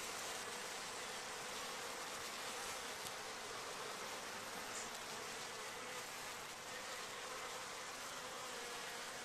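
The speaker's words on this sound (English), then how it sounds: "Here's how the bees came, in a box like this." A dense, steady hum of a swarm of honey bees buzzing together in a box, faint and muffled, continuing evenly without pause.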